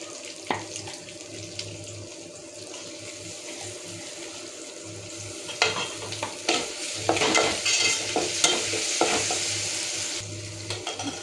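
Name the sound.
stirring and frying onions in pan for Pallipalayam chicken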